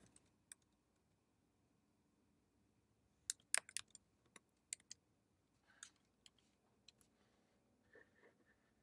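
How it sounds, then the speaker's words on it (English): Computer keyboard typing: scattered sharp key clicks in short irregular bursts, close and quiet, with no talking. "So let's type that in."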